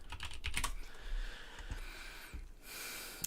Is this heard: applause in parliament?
no